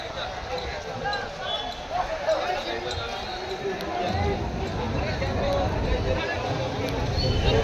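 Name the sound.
crowded goat market in Digras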